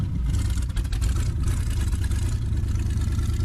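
A tired 1940-41 Ford truck engine with a compression problem idles steadily up close, a loud, continuous low rumble with a rough, uneven pulse throughout.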